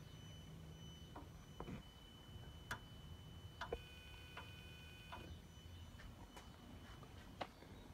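Faint, irregular clicks from the inlet valve of a Ford ABS hydraulic control unit during a left-front brake test, sounding as about nine sharp ticks over a low, steady hum.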